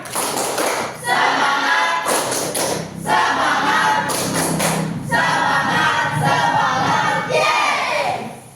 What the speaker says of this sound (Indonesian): sebelumnya tepuk semangat